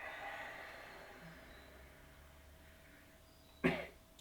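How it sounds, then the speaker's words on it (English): A single short, sharp cough rises once near the end of a quiet yoga class, after a stretch of near silence. "You don't have to do the cough if you don't want to."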